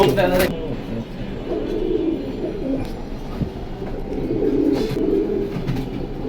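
Pigeons coo softly close by in a bird market setting, low murmuring calls repeating through a steady background of voices and clatter.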